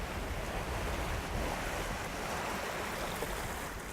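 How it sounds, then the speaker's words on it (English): Ocean surf washing onto a scenic sand beach on volcanic Jeju island, a steady broadband roar of breaking waves with some wind noise, continuous and fairly loud throughout, with no voices. "A scenic sand beach against the Emerald Ocean."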